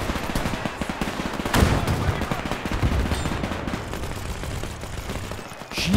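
Rapid gunfire from units fighting in the war strategy game Men of War II, dense bursts and scattered shots with a sharper crack near the middle, a voice talking over the battle.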